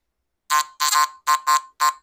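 A metal detector's short, harsh electronic buzzes for an iron nail sound in an uneven burst of about six pulses, some run together, loud and close with nothing else audible.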